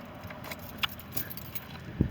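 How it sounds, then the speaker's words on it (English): Car keys for a 2005 Jeep Liberty Renegade jangle briefly as they are picked up, a few light metallic clinks close by over quiet background noise, with a soft thump at the end. "Grab the keys."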